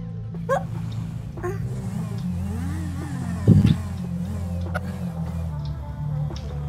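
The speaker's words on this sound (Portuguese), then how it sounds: "Deixa eu tirar minha moto aqui fora aqui." A motorcycle engine in the video game GTA V idles and revs, its pitch rising and falling under game ambience, with a brief loud knock midway.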